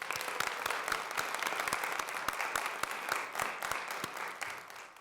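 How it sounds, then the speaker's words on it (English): Applause at a school board meeting, many hands clapping quickly and steadily for several seconds, at moderate distance in a meeting room. "I would like to give you a round of applause"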